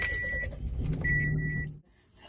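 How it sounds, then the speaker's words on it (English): A car key slides into a car in the dark, with a faint metallic jingle under a steady electronic chime tone that cuts out partway, then resumes before the sound drops to near quiet at the end. "I could barely put the key in the car"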